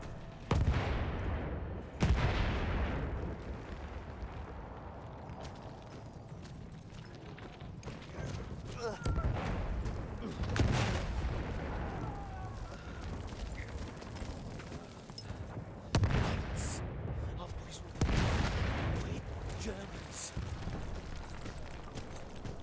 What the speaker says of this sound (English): MGs are trained on them. They shoot anything.